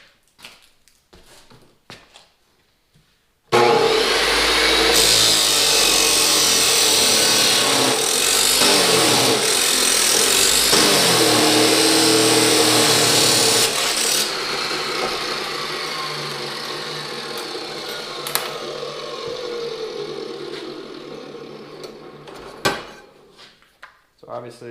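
A SkilSaw 14-inch chop saw cuts through 3/16-inch steel angle with a loud, sustained abrasive whine lasting around ten seconds, then trails off into quieter winding down and clanks, with silence before the cut begins.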